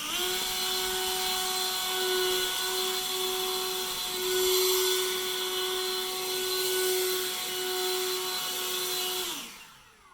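An Ozito 18V brushless battery jet blower runs on turbo, a loud, steady high-pitched whine with a rushing airflow that holds for about nine seconds before spinning down, with no talking.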